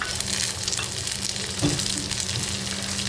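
Chopped tomatoes and onions sautéing in a pan for a dry tondli (ivy gourd) vegetable dish, giving a steady close sizzle with faint stirring scrapes throughout.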